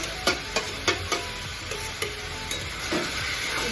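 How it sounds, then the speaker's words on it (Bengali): Someone stirs food in a pan over medium heat, making a quiet background of frying with soft, irregular scrapes and taps from the utensil and no voices. "দিয়ে এটাকে অনবরত নাড়াতে হবে।"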